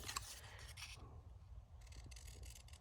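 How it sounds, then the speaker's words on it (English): Sewing crimping scissors with a triangle-edged blade snip through paper scraps, a few crisp cutting and rasping strokes close up, quiet and alone. "We've got these sewing crimping scissors, got a bit of a like a triangle edge."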